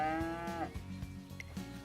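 A single cow on a farm in Umamusume: Pretty Derby gives one drawn-out, tonal moo that fades into a few softer grunts, fairly quiet and alone.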